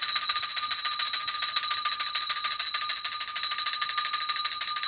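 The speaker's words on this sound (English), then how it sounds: "This is a Prosecco bell." A Prosecco bell rings continuously with a bright, high metallic trill, a rapid steady clatter of strikes held loud and close for about five seconds with no talking.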